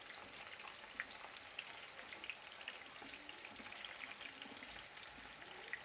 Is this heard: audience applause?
no